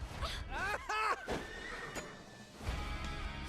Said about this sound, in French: Je rêve où je suis en train de me battre en duel contre un cheval.